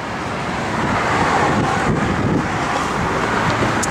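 A 1982 Chevrolet Blazer with a 454 V8 runs steadily, giving a constant broad rumble mixed with wind noise across the microphone, moderately loud and without speech.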